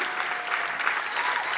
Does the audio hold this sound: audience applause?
yes